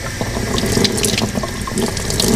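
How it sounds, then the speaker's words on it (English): Tap water runs steadily into a shop sink as a spray-paint stencil is rinsed under it, a continuous close splashing gush with small fluctuating drips and spatters, no talking. "I want to come back to the shop sink and rinse this down real good."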